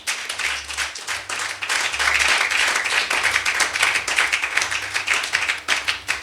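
A church congregation claps and applauds, acclaiming the Holy Spirit during a sermon. Dense, continuous clapping from many people rings out loud and close for the whole stretch, with faint low tones underneath.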